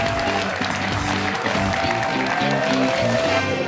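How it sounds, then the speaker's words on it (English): Audience applause for two high school quiz show teams, Andover and Boston Latin School, at a semifinal. Loud, steady clapping fills the clip under what sounds like music or a voice. "Let's have a round of applause for both teams."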